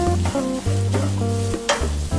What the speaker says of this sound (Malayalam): ഈ കാഷ്നട്ടും മുന്തിരിയും വറുത്ത നെയ്യിൽ തന്നെയാണ് തേങ്ങയും വറുത്ത് എടുക്കുന്നത്